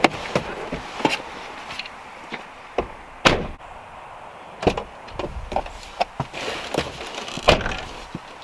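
The rear seats of a 2014 Mini Countryman are folded down, giving a series of sharp plastic and latch clunks and thumps at irregular intervals, close and fairly loud against a quiet background.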